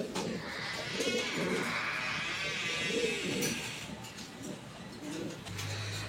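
Pigeons cooing at a pigeon farm, soft repeated low coos overlapping through a steady background of flock noise and chatter.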